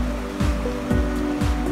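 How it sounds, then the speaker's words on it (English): Broadband rushing water from a river being crossed on the way up Mount Bierstadt, Colorado, steady and close, with a few low thumps of footsteps or movement nearby and no talking. "just crossed the river"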